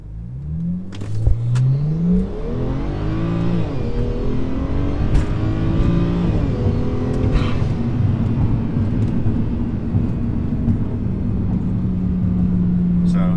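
A car with a 500hp package, traction control off and its automatic gearbox in sport mode, launches hard from a dead stop. The engine roars and climbs loudly through rising revs with gear changes, then holds a strong steady drone.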